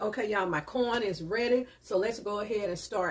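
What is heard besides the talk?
No everyday noises stand out.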